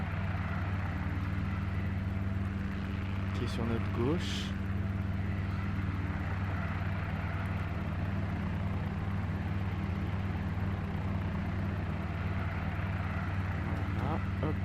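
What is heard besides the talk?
Cabri G2 helicopter taxiing in video game X-Plane 11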